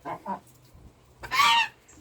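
Aggressive hens in a poultry yard give two quick clucks, then a louder, longer squawking call, heard close with no voices.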